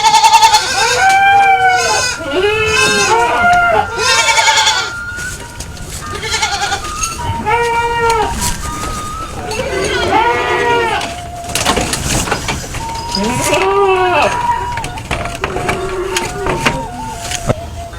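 Goats in a livestock pen bleat loudly and close, several drawn-out cries spaced through the stretch with quieter farm noise between them.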